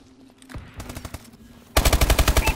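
Automatic machine gun fire in a Domination match of a first-person shooter, with scattered shots early on and then a loud, sustained rapid burst of rounds at close range.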